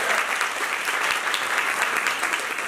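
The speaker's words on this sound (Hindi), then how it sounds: "ऐसी बातों के लिए तालियां अच्छी सी बजाया करो तो अच्छा लगता है।" A room full of people applauding at a student council function, many hands beating in a thick, even wash that stays loud and constant throughout, with no talk breaking through.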